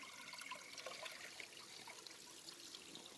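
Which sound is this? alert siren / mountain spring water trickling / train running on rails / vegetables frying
mountain spring water trickling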